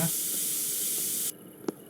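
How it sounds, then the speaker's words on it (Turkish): A spray can spraying in the Internet Cafe Simulator game, one steady, loud hiss that lasts just over a second and cuts off sharply, followed by a short click. "Sprey de bitti bitiyor. Yeni sprey de almamız lazım."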